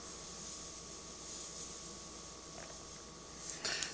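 An airbrush spraying black and grey paint onto a saddlebag gives a soft, steady hiss that runs throughout, faint and close.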